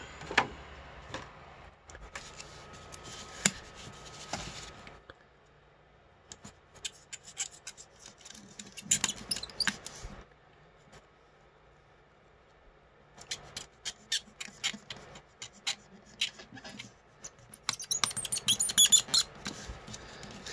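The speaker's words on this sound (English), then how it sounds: "Sorry for all that squeaky noise." Squeaky rubbing while opening packaging for a Marvel Legends Retro Collection Beast action figure, bursts of scraping and squeaking separated by quiet gaps, close and moderately loud, no speech.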